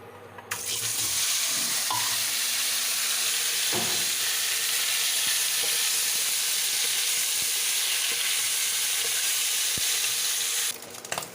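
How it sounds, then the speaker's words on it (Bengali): Eggs coated in salt and turmeric frying in hot oil for a country chicken curry: a steady, loud, close sizzle and hiss fills the whole stretch, with no voices. "এবার ডিমে লবণ হলুদ মাখিয়ে নিয়েছি এবার এগুলোকে লাল লাল করে ভেজে নেব"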